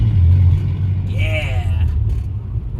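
A 1979 Subaru car drives along with a low steady engine drone heard from inside as it shifts into second gear, the hum continuing evenly with a faint whine partway through.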